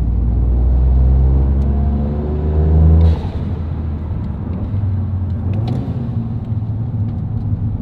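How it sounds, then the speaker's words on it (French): A Stage 3 tuned Toyota GR Yaris drives on a road, its engine droning loud and close as it builds revs, then dropping sharply after a shift and settling into a steady rumbling cruise. "C'est vraiment une bonne bagnole."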